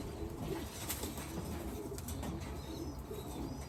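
Racing pigeons in a loft give soft low cooing with light wing flutters, a faint, steady murmur of bird activity close by, with no talking.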